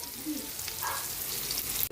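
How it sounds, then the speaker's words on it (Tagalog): Oil sizzles and crackles steadily as tofu fries in a pan, close by and moderately loud, with a short clatter at the very end. "Nagprito na po tayo ng tokwa."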